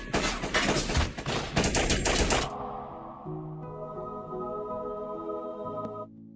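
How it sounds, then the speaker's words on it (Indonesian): Rapid burst of pistol gunfire in an action film fight scene, a dense loud volley of shots lasting a couple of seconds, then cutting to sustained low tonal music. "dirinya dihantam dengan rentetan tembakan beruntun"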